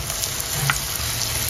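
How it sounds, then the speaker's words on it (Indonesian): Gabin cakes filled with ripe banana fry in hot oil, giving a steady, dense, close sizzle with tiny crackles and pops throughout. "Selanjutnya ini akan aku goreng di minyak yang sudah aku panaskan sebelumnya."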